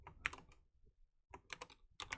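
Typing on a computer keyboard while setting up a coding environment, quiet close-up bursts of rapid key clicks separated by a short pause.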